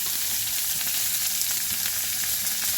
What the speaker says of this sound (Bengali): এবারে ওই তেলের মধ্যে পেঁয়াজ কুচনোগুলো দিয়ে দেব পেঁয়াজ কুচনোগুলো দিয়ে ভালো করে পেঁয়াজগুলোকে একটু হালকা বাদামি করে ভাজতে হবে